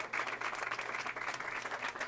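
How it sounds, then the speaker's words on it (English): Applause from the crowd for the bowlers at a collegiate bowling tournament final, a dense steady burst of clapping throughout, close and lively, without speech. "McKendree giving them a great deal of applause there"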